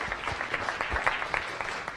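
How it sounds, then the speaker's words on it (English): Audience clapping follows a Science Cafe talk on celebrating Apollo, a short burst of moderate applause from a small room, steady and close with individual claps audible. "Let's give him a round of applause."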